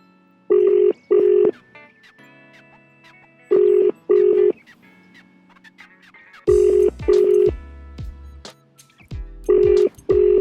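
A phone call being dialed and ringing, with repeated paired ringback bursts spaced a few seconds apart, loud and clear, with faint tones and clicks between them.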